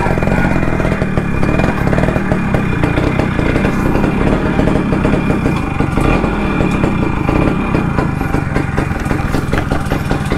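A modified, restored Max100 motorcycle engine runs loud and close, with a continuous rough, throbbing exhaust note that holds steady throughout and has no speech over it.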